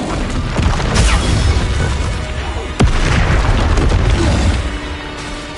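A loud, booming blast from the Confringo fire spell in Hogwarts Legacy erupts amid continuous rumbling combat noise, with a sharp crack partway through.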